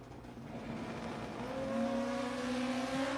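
Drag racing motorcycles, including a black Kawasaki ZX14, launch down the strip, heard as a faint distant engine roar that swells and rises steadily in pitch as they accelerate away.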